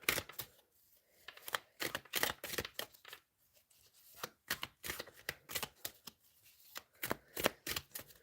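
A very thick tarot deck with extra moon and sun phase cards is shuffled by hand: repeated crisp riffling bursts in an irregular rhythm with short pauses, close and fairly quiet, with no talking.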